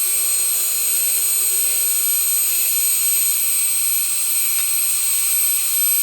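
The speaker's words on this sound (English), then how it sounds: "the belt sander seems to have the perfect groove on it, which means I've got to take these to the belt sander" A belt sander grinds grooves into small homemade ear plugs, a steady high-pitched whine and hiss running continuously and loud for about six seconds with no talk.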